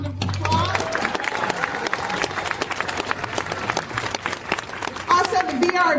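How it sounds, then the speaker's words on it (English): A crowd claps for volunteer marshals at a community gathering, steady dense applause lasting throughout, fairly loud and close with some scattered cheering. "Let's give them another round of applause."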